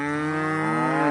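A cow mooing on pasture, one loud, close, sustained low moo that fills the whole moment with no other sound.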